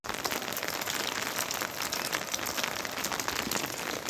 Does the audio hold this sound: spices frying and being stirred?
no